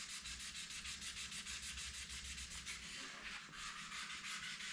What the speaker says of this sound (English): Same thing with wet sanding the car.